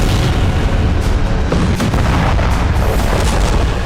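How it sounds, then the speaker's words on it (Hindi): Bombing explosions in southern Beirut, heard as a dense, loud barrage of booming blasts and cracks rolling one after another with no pause. "दक्षिणी बैरूत में इजरायल ने एक के बाद एक लगातार 12 बमबारी की।"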